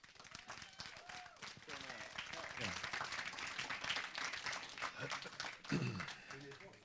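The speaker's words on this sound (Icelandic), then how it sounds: "Gefum gott klapp." Faint applause at a church gathering in Reykjavík, a quiet patter of clapping rising under people talking and calling out.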